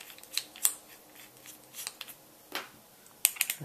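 The handle of a bookbinding plough is screwed back into place, giving a few faint, close metallic clicks and light scrapes scattered across a quiet room.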